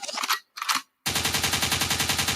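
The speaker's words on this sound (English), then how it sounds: "a gunshot means forward" Rapid burst of gunfire used as a radio station sound effect: two short crackling shots, a brief gap, then a steady fast rattle of repeated bangs, loud and close with no talk.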